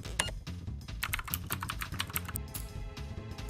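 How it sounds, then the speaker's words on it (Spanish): Rapid, close clatter of fingers typing on new computer keyboards, with dense irregular key clicks continuing throughout over a low rhythmic background. "Por fin le está dando uso a sus nuevos teclados."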